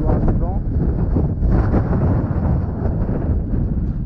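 Wind blows hard at sea off the Frioul archipelago near Marseille, a loud, constant low rumble buffeting the microphone for several seconds.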